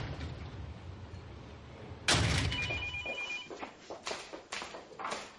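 A telephone rings with a bright electronic trill that starts abruptly and repeats in short bursts, close and fairly clear, preceded by low rumbling background noise.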